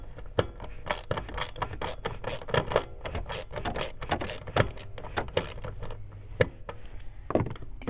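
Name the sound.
5/16 socket removing Grand Caravan blower motor resistor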